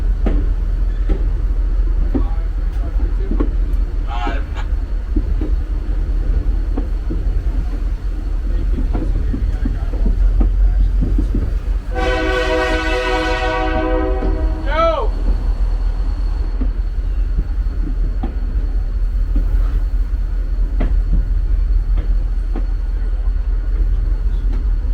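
A passenger train rumbles steadily along the rails through a wye near Pottsville Station with low clatter, and a loud horn sounds once in the middle of the run.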